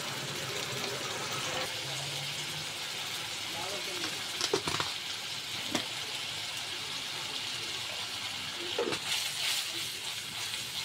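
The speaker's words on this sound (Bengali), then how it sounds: "মশলাটা আমি ভালো করে কষিয়ে নেব।" Ginger-garlic paste, onion paste and ground spices sizzle steadily in hot oil in a pan, cooked down for a rohu fish bhuna with pumpkin bori, with a constant close frying hiss and a few brief stirring knocks, no one speaking.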